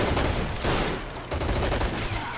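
Soldiers firing guns in the strategy game Men of War: Assault Squad 2 during an online battle, a loud, dense fusillade of overlapping rifle and submachine-gun shots rolling on without pause.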